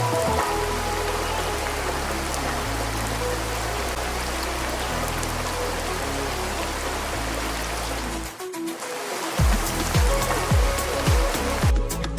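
Steady heavy rain pours down in a lush hill region, a dense continuous hiss of drops on surfaces, with a low throbbing beat underneath and a few louder thumps and splashes near the end.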